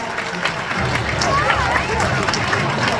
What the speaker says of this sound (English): big round of applause there for Adira